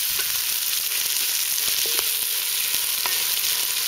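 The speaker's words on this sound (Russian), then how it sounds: "Лук жарится до такой степени, чтобы каждый кусочек лука начал как бы подрумяниваться по краям." Onion frying in rendered pork fat (salo), a steady, bright, loud sizzle with occasional small pops and crackles, no voices.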